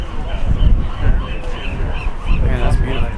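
Seagulls call in harsh, scattered cries over Alcatraz island in San Francisco Bay at night, with people talking throughout and the calls half-buried beneath the voices.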